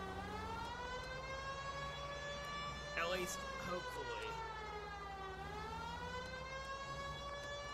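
A police car siren in the video game L.A. Noire Remastered wails steadily with layered tonal harmonics throughout, fairly loud, while someone talks briefly over it.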